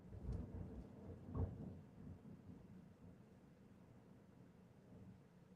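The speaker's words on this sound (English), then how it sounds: "That was a loud thunder, like directly above my house." Loud thunder rolls directly overhead during a rainstorm, a deep rumbling crack near the start that swells again and then fades into a steady low wash of rain, heard from indoors at a house.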